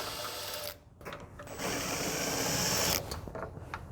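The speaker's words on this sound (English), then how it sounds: "I have a 10mm socket here and my drill" A cordless drill fitted with a 10mm socket runs in steady bursts while removing a headlight on a 2007-2015 GMC Sierra, giving a close, buzzing whine with a brief pause partway through.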